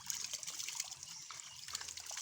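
Milky-coloured water from a stream trickling and splashing gently during washing, a soft close dribbling with small irregular splashes.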